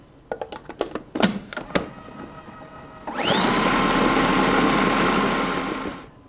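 A food processor purees a sole and salmon mousse mixture, first with a few knocks and clunks, then a steady, loud motor whir that runs for about three seconds before winding down.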